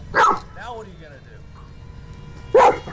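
Two sharp dog barks, separated by a brief whiny yelp, sound close by in an otherwise quiet space.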